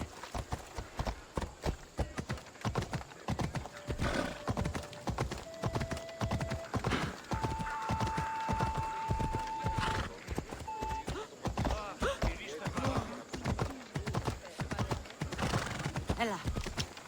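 Phobos, a horse in the Assassin's Creed Odyssey video game, galloping with rhythmic close hoofbeats at a steady pace, a few whinnies and a held tone layered over the drumming of hooves.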